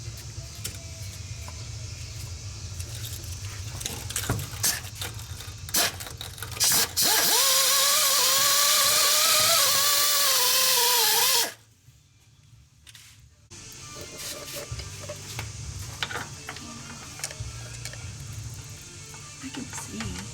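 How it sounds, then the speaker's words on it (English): Wire wheel on a power tool cleaning the threads of a bolt during gas tank removal from a 1974 Nova, a loud, steady whirring grind lasting about five seconds that then cuts off, with clinks of tools and shop noise around it. "take this wire wheel, clean the threads off"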